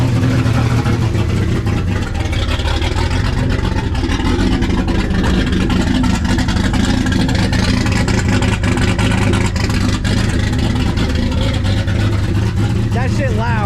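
A loud turbocharged car engine idles and rumbles close by, a dense, continuous low roar that may be misfiring, with people talking over it.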